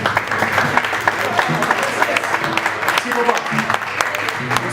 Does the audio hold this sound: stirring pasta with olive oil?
no